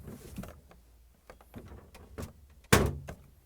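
A Samsung refrigerator pantry cover is handled with a few soft plastic clicks and rattles, then pushed shut with one sharp, loud thunk near the end, close and without talk.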